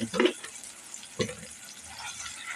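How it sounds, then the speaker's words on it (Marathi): Aubergine, potato and tomato sautéed in a pan, two short close bursts of scraping and sizzle about a second apart, then a softer quiet simmer. "आता आपण याला चांगलं परतून घेऊया"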